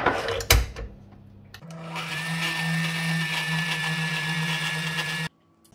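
Electric mixer giving a final turn to cake batter with dried fruits, honey and goat cheese, a steady loud motor whirr running several seconds after a brief clatter, then cutting off abruptly.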